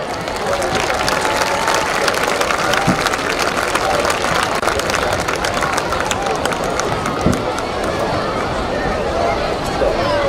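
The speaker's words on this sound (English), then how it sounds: "So give them a round of applause." Crowd at a high school football game, Nixa vs. Republic, applauding in a stadium: a dense, steady wash of clapping and crowd noise for about ten seconds, with murmur and babble mixed in throughout.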